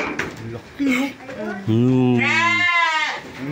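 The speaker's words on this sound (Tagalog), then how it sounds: "Ganyan naman talagang kambing." A goat lets out a long, wavering bleat close by, with people speaking briefly around it.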